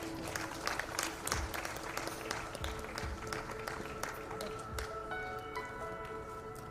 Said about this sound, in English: Can we please give him a huge round of applause?